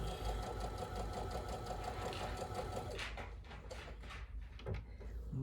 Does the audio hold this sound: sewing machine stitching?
yes